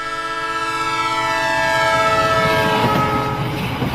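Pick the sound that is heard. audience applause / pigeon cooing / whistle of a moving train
whistle of a moving train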